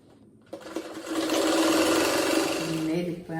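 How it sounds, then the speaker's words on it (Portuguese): A sewing machine stitches around the edge of fabric patchwork scraps for a bathroom set, starting after a short pause and then running in a steady close whir for a few seconds. "agora eu passo a costura em volta"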